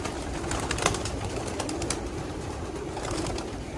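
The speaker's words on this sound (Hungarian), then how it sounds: "Remélem tetszenek a galambok" Dense, continuous cooing and fluttering from a large flock of racing pigeons, nearly 2,700 birds at a test loft, a busy steady wash of bird sounds with no speech.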